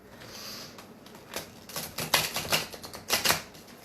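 A deck of tarot cards is shuffled up close in a quiet room, the riffling starting soft and growing into several crisp, flapping bursts of card noise.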